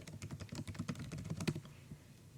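Rapid typing on a computer keyboard, a dense run of clicky keystrokes close up, slowing and thinning toward the end.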